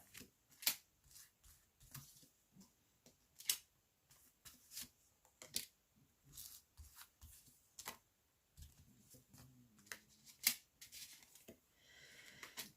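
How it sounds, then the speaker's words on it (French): Tarot cards drawn and shuffled by hand, giving a run of short, crisp flicks and snaps spaced irregularly, close and fairly quiet with no voices. "Alors, on va sortir 5 cartes."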